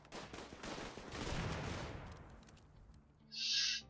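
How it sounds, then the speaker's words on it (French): Faint rapid gunfire in the Rimworld video game as colonists shoot at a mega beetle, a quiet rattling volley that thins out and ends in a brief high-pitched tone. "il tire sur un méga scarabée"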